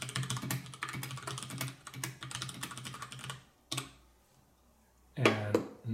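Rapid, steady typing on the clacky mechanical keyboard of a Freewrite typewriter, close up, then a short pause and a second burst of keystrokes.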